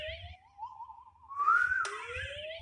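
A person whistles loudly to open a phone app: one continuous whistle that glides steadily upward in pitch, growing louder toward the end, close and alone without talk.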